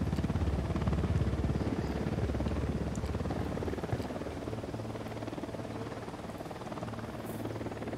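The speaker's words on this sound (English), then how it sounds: "Down! Get down! Chopper!" A continuous throbbing rotor rumble from an Unidad helicopter flying over the Ghost Recon Wildlands battlefield, strongest at the start and easing slightly, with faint high game effects on top and no speech.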